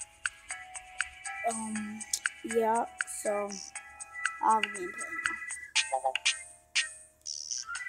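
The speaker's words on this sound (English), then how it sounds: "Sorry if you hear my phone." A phone ringtone chimes repeatedly in short bright tones while a person talks over it during mobile gameplay of Zombie Road Trip.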